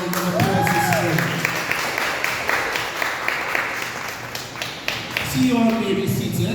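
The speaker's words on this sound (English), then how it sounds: "I want to start off by you all giving yourselves a round of applause this morning" Students in a school gathering give themselves a round of applause, a dense wash of clapping under which voices speak and rise, loud and sustained throughout.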